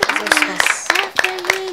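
An audience claps in a steady rhythm of sharp, evenly spaced claps, roughly three per second, while a voice carries on over the top throughout.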